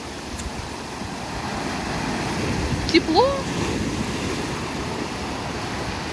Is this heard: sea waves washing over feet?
yes